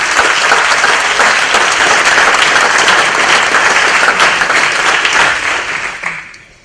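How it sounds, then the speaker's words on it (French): Loud, sustained applause from a crowd, steady clapping that fades out toward the end. No voices stand out. "un gros applaudissement."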